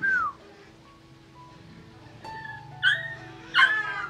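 A red-coated Hmong docked-tail dog gives a few soft whimpers and short high yips, faint and sparse over a quiet background, with no talking.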